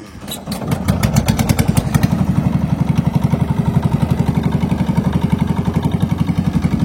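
A fishing trawler's engine chugs steadily on the Padma river, a loud rapid rhythmic thumping that starts up and settles into an even running beat with no talking.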